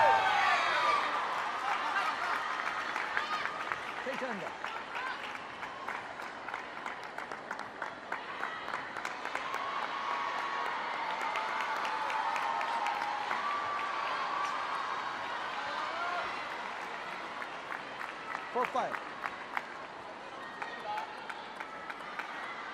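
A large crowd at a table tennis mixed team world cup match keeps up a long spell of steady applause and murmuring, with scattered claps and a few louder swells, while a commentator talks over it.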